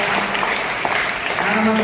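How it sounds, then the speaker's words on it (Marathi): A crowd at a school admission-day event in a village claps to welcome the village sarpanch, a steady, close burst of applause throughout with a voice heard over it. "मी सर्वांना विनंती करतो की आपण सर्वांनी त्यांचं टाळ्या वाजवून स्वागत करावं"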